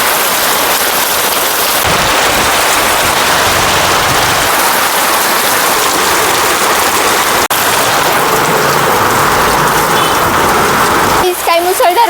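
A heavy monsoon downpour pours steadily on a market street, a dense, loud hiss of rain that fills the whole stretch without letting up.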